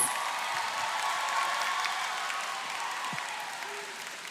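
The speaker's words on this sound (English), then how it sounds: "Everybody, join me in giving a big round of applause to RSG" Steady applause from a large arena crowd at an MPL Philippines esports playoff fills an echoing hall, loud and continuous throughout with a slight fade toward the end.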